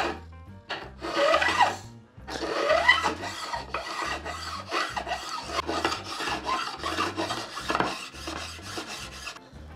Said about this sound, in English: if you're using a file, you'll hear the difference once you're actually at the wood.